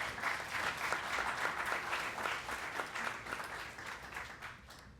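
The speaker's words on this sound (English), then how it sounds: "let's give them a round of applause" Audience applause for guest speakers at a business event, a steady burst of many hands clapping from a moderate-sized crowd that holds for several seconds and gradually tapers off.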